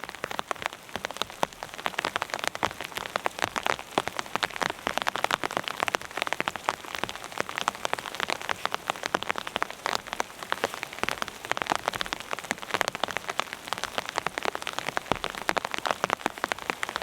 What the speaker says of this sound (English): the rain is really setting in